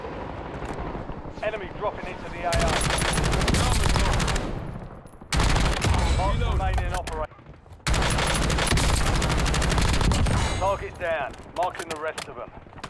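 Rapid automatic gunfire rings out in the video game Call of Duty: Warzone, loud sustained bursts separated by brief pauses, with a voice speaking intermittently over the shooting.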